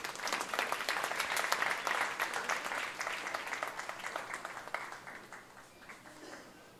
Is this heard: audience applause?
yes